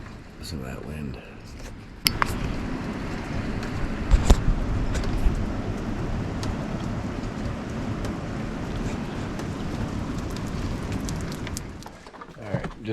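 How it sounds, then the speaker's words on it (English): Strong wind roars steadily outdoors during an Arctic blizzard as snow melts, a dense, loud broadband rush lasting nearly the whole stretch with a sharp gust or knock early on, fading out at the end. "Listen to that wind."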